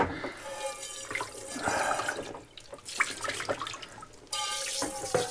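Water from a Tadomoe shower bag splashes over dishes being rinsed outdoors, running in uneven bursts with a brief pause midway, then flowing steadily again.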